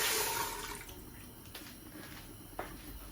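A rush of water pours into a hot pot at the start, then fades to a quieter trickle with a few faint drips and clinks.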